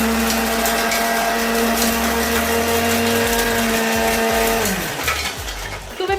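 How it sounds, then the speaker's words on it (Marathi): A kitchen mixer grinder whirs loudly as it grinds coconut, a steady motor whine that slows and winds down near the end with rattling as it stops. "मिक्सर मध्ये काय वाटतंय, खोबरं वाटतंय"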